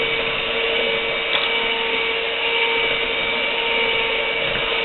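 An electric mixer beating cake batter with sugar runs steadily, a loud constant whirring motor hum without pauses or talk.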